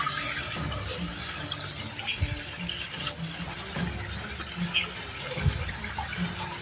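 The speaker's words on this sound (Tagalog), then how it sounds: "Dalawa yung sapa dito, no." Stream water flows steadily near a mountain in the countryside, a constant close-up rushing and gurgling that carries alone throughout.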